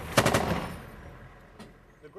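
Gunfire during street fighting in Mosul as Iraqi forces advance house to house: a quick burst of several loud, near shots at the start, fading into a lower rumble, with one fainter shot later.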